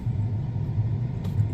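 A combine harvester engine idles in a steady low rumble, a continuous drone with no speech, holding even through the whole stretch apart from a short faint click near the end.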